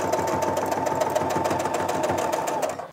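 A home sewing machine stitches a quilt through a ruler foot, running at a steady fast pace with a dense, even mechanical whir close to the microphone, unbroken for about three seconds before stopping at the end.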